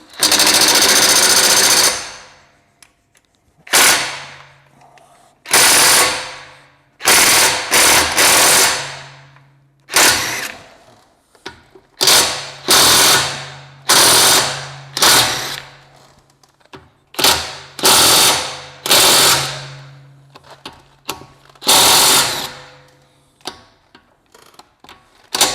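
A power tool loosens lug nuts on a BMW G80 M3 Competition xDrive in a series of short, loud mechanical bursts separated by brief pauses, sounding close and rhythmic.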